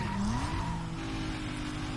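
Race car in the Need For Speed Most Wanted video game, a steady engine drone with a rising tire squeal early on, continuous and fairly loud.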